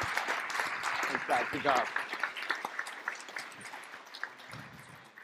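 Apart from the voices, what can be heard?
audience applause for a conference panel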